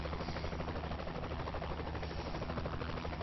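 Helicopter in the video game Saints Row the Third, a steady loud rotor drone and engine buzz filling the scene without a break, with no voices over it.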